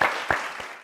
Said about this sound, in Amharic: አጨብጭቡላት ድጋሚ